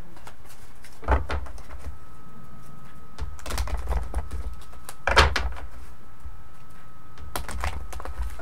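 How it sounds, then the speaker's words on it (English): Bursts of papery riffling and clicking of tarot cards being shuffled come in several short spurts close to the microphone, with a quiet background in between. "Okay, so I think I've shuffled enough."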